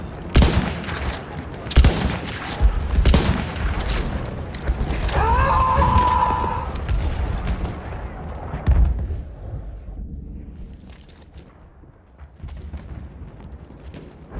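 Enemy machine gun fire in Battlefield 1, rapid bursts of loud shots in the first half followed by distant rumbling, with a voice briefly heard over the action.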